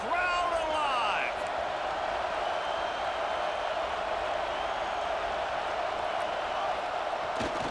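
Stadium crowd in the video game College Football 26 roaring steadily through a red zone third down, a dense continuous wall of cheering and noise, with a voice speaking briefly at the start.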